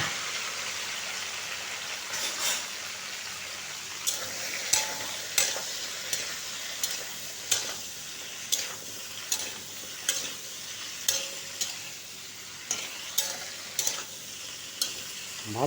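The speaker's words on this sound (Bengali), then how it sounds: "ভালো করে এটাকে ফ্রাই করে নেব" Marinated okra (bhindi) frying in hot oil in a kadai: a continuous hiss of sizzling oil punctuated by regular, light clicks of a stirring spoon against the metal, close and moderately quiet.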